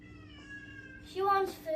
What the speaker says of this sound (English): Don't mind the moaning in the background. That's the kitty.